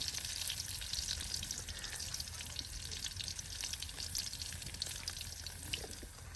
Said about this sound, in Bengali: এই যে রসুনটা তেলে একদম ভেজে নেওয়া হচ্ছে